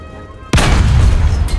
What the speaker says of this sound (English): Now, fire at the fighting compartment on the tank.